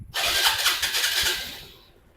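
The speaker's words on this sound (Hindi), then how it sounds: "देखिए बाइक एक सेल्फ में स्टार्ट हो गया।" A TVS Star City Plus 110 BS6 fuel-injected motorcycle engine fires up on the self-starter: a brief starter whir, then a loud, close engine catch that settles and fades within about two seconds, with no talk.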